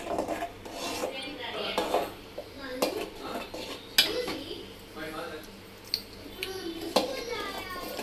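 A spoon scrapes and clinks against a metal pan while a thick mixture is stirred to keep lumps from forming, irregular metallic knocks and rubbing close by, with a person talking and a voice in the background.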